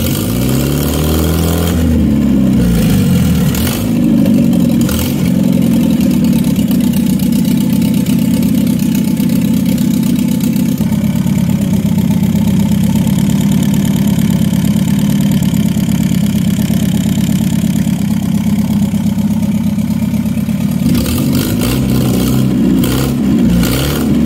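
A Renault 4x4 engine cranks, catches and settles into a steady, loud idle that runs on for about twenty seconds, with a few small changes in revs near the start and end and no talking.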